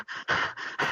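Heavy, rhythmic dog-like panting, several quick breathy bursts close to the mic, a person imitating a dog's panting.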